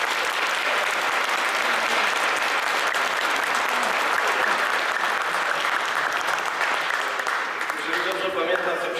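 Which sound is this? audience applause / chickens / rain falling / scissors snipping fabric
audience applause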